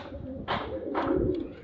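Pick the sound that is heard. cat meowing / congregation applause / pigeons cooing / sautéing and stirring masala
pigeons cooing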